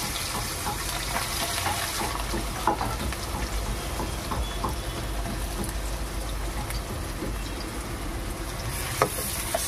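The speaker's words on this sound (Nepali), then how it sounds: "सरसोको तेलमा झ्याम्म लाएर फ्राई गर्छु" Onions frying in mustard oil with whole spices in a pot: a continuous, even sizzle and crackle fills the clip at moderate level, with occasional small clatters and no speech.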